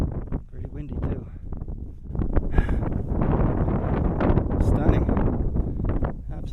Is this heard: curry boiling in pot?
no